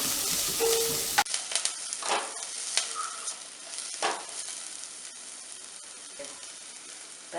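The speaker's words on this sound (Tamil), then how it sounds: "பச்சை மிளகாய், ஒரு வரமிளகாய், இஞ்சி பூண்டு பொடிசாக கட் பண்ணி வச்சுருக்கேன். எல்லாத்தையும் சேர்த்து நம்ம வதக்கிக்கலாம்." Chopped green chili, a dried red chili, ginger and garlic frying together in a pan, a steady close sizzle with scraping stirs throughout after a brief louder start, no talking.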